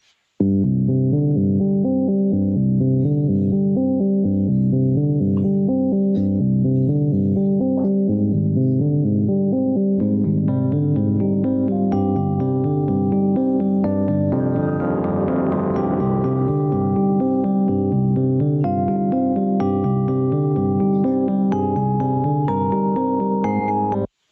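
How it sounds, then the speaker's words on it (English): A bass guitar plays a tapped reprise of a theme from The Invasion and Safe House as a sustained, droning figure, joined midway by brighter shimmering layers, loud and continuous with no voices. "the bass in the song is actually doing the tapping bit"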